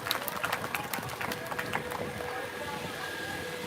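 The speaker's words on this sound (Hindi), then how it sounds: "अगर प्रस्तुति पसंद आई है तो तालियां बजाइए," Faint, distant clapping from a crowd of students and villagers at a school building inauguration, brisk at first and then thinning into a low wash of background noise.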